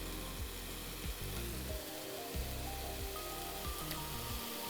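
Vegan fried rice sizzles and crisps in a hot pan, a continuous crackling fry with repeated scraping and stirring strokes, close and moderately loud, with no talking.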